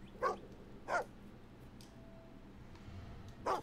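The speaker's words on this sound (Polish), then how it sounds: "Spokojnie, piesku, piesku, dobrze." A dog in the video game Fable II gives three short, soft barks spaced apart, fairly faint over a quiet ambient background.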